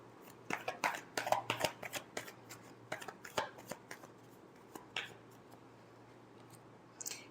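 Tarot cards shuffled by hand, quick bursts of soft riffling and flicking clicks, close and quiet, trailing off into scattered single taps.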